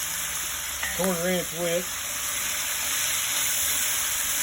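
Jambalaya ingredients sizzle and fry in a pan while being stirred, a loud, steady hiss throughout, with someone speaking briefly over it.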